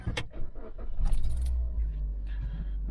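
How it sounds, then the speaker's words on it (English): A 2008 Suzuki Swift being started: keys jingle and click at close range, then the engine catches into a low, steady idle rumble. "So what I'm going to do is I'm going to start the car."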